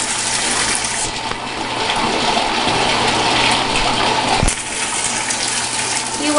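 A baby in bathwater: a steady, loud wash of sloshing and splashing runs throughout, with one sharp knock midway and no clear talking.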